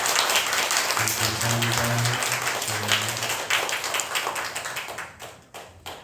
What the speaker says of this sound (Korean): 영광의 박수를